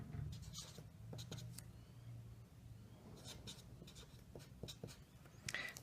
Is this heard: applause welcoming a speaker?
no